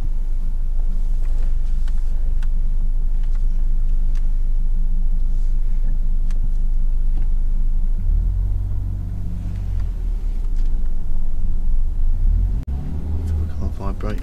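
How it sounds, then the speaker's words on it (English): A car reversing out of a parking space during a UK practical driving test, with a steady low engine rumble inside the cabin and a brief rise in revs, while people talk over it. "Just back out of space, going towards the bushes, back out towards the bushes."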